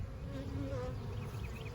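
A steady close buzz of newly installed package honey bees, several insects droning together without pause, no voices.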